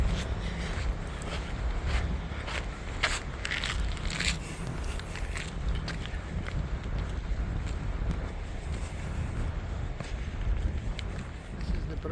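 Wind blowing steadily across a Yosemite backcountry trail near the outlet of Merced Lake, a constant low rushing roar with microphone buffeting and faint crackles throughout, no voices.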